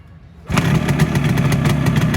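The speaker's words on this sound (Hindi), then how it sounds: "ये यामाहा की वो उन बाइकों में से जो कि क्लच दबा के किक मार के भी स्टार्ट हो जाती है" A vintage Yamaha motorcycle, a single-cylinder kick-start machine, fires after a quiet moment and settles into a loud, close, rapid engine chatter that keeps running steadily.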